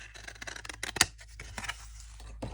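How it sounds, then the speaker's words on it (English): Scissors snip open art supply packaging in one sharp, loud cut, with quieter rustling of the packaging before and after. "I've got a pair of scissors."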